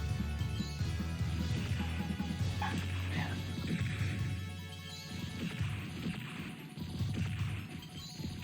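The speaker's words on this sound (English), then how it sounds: "My dog's barking like nonstop right now." A dog barks and yips nonstop in the background under a dense, loud layer of game music and effects, the barking sometimes turning to whimpers.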